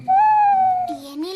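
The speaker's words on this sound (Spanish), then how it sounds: "Es un búho." A cartoon owl hoots during a camping scene in a children's animated show: a single sustained, tonal hoot that glides slightly, followed by a second lower, rising call, close and fairly loud.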